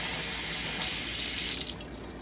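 Tap water runs steadily into a sink as hands are rinsed under the stream, a close, continuous splashing hiss that drops off sharply near the end as the flow stops.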